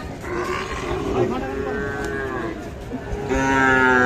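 Sahiwal bull calves and other cattle at the Ambari livestock market in Parbatipur, Dinajpur, moo twice, close and clear: a drawn-out call midway, then a stronger one near the end over a low market hubbub.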